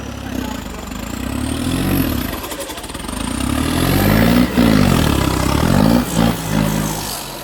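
A heavy engine chugs and idles steadily, its low throbbing rising and falling as it revs, close and loud for the whole stretch.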